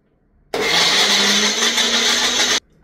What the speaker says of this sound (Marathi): आता हा मसाला वाटायला घेते.